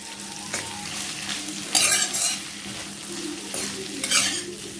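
Potato curry for masala dosa frying in a pan, a continuous sizzle broken by several scraping stirs and metallic clinks of a spoon against the pan, fairly close.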